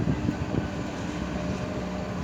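A Kobelco SK140 Super X excavator with a four-cylinder Mitsubishi engine of 93 horsepower runs while digging a pond eight metres deep, giving a steady, loud, close diesel drone with no talking.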